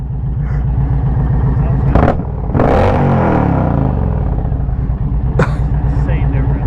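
Indian Challenger motorcycle engine with a TAB Performance cat delete rumbling loudly at close range, with quick revs that rise and fall early on and another blip near the end over the steady idle.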